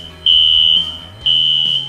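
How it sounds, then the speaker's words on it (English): Smoke alarm sounding two loud, piercing electronic beeps, each held for about half a second, close and alone. "Take fire alarms seriously."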